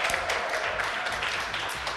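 Dense, steady applause from a live audience at a Romanian entertainment show, filling the whole stretch with continuous clapping and no clear voices above it.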